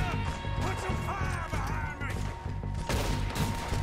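Gunfire in the Red Dead Redemption 2 video game: a dense barrage of loud, sharp shots and impacts over a constant layer of game music and ambience, with a brief quieter gap before the firing resumes.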